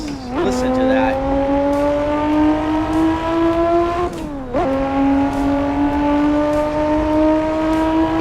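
A Lotus V6 engine in the Assetto Corsa racing game drones steadily at high revs, with two quick gear shifts that briefly drop and re-climb the pitch, a sustained harmonic tone with faint tire noise.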